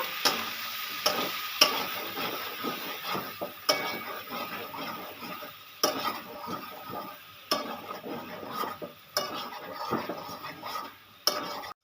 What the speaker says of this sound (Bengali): আলুগুলো হালকা করে নেড়ে নেব